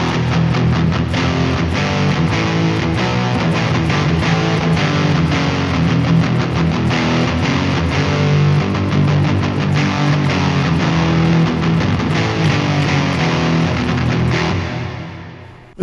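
Chugging heavy electric guitar rhythm through the Neural DSP Mark IIC+ Suite amp model, loud and distorted with steady palm-muted riffing throughout, fading out at the end.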